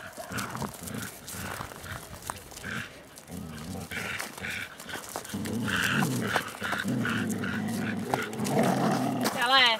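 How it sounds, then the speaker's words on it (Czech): Playful growling from dogs at play, rumbling in bursts over several seconds alongside barks and scuffling, with people talking over them. "Jak oni vrčí, úplně nezvyklé, viď?"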